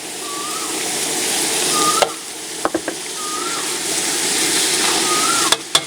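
Pork, shrimp and fresh squid sizzle and fry steadily in a hot pan for Thai dry suki, a continuous loud hiss broken by a few sharp clinks of a utensil against the pan, with no talking.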